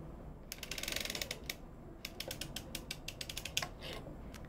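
A circular sock knitting machine is hand-cranked, giving quick runs of close, crisp mechanical ratcheting clicks in uneven bursts separated by short pauses, with no speech.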